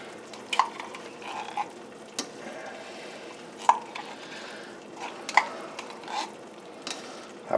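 A small knife scrapes tomato paste out of a can, with soft scraping and a few bright metallic clinks spread across several seconds.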